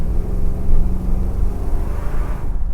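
A 1972 Ford Mustang Mach 1 V8 revs on damp country B roads in late November, a loud, close, deep rumbling engine note that swells and settles steadily with no talk over it.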